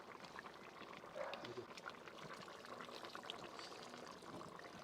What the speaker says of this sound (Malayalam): ഒരു കുറച്ച് തേങ്ങാപ്പാലം ഒഴിച്ച് കൊടുക്കാം